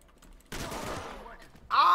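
Gunshots in a first-person shooter video game, a sudden loud burst of fire that tails off, followed by another sharp blast at the end, with a voice speaking briefly over it.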